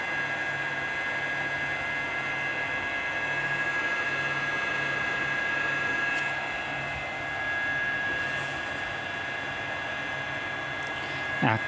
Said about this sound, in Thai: พัดลมก็ เริ่มมีเสียงดัง หน่อยๆนะครับ